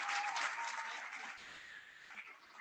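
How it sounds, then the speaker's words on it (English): An audience at a leadership retreat applauds the newly installed leaders, a dense wash of clapping that starts fairly loud and slowly fades over a few seconds, with no one speaking. "Let's all give them a round of applause for serving you all for the next 2 years."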